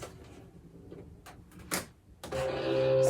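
A vinyl cutting machine starts with scattered mechanical clicks and sliding sounds, then settles into a loud steady whine with tonal motor hum as the blade cuts vinyl.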